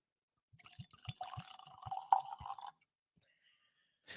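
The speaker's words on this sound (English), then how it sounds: "I probably poured more than I wanted just to hear that too" Ancient Age bourbon whiskey pours from a bottle into a glass in a string of close, gurgling glugs and drips lasting about two seconds, followed by quiet and a faint clink.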